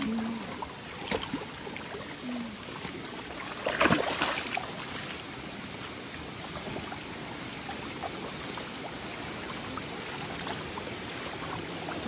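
Water flows and trickles steadily along a village irrigation channel in Rolpa, Nepal, a constant close wash with a brief louder splash partway through and no talking.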